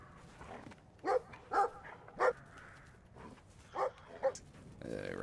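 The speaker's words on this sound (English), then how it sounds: "Angry dog." An angry dog in the video game Brothers: A Tale of Two Sons gives five sharp, separated barks against a quiet game backdrop, with someone talking briefly between them.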